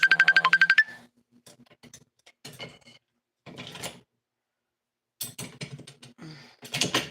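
A phone ringtone plays in a rapid pulsing burst for just under a second at the start, followed by scattered clicks and clatter from household activity.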